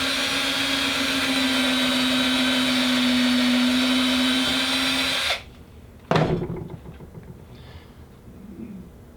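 A power drill whines loudly and steadily for several seconds while boring holes in multirotor booms, then stops abruptly, followed by a sharp clunk and quieter handling noise.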